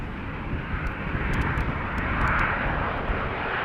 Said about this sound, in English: 737-800 outbound to Copenhagen, KLM flight 1127, 15 years old, first flight January 2008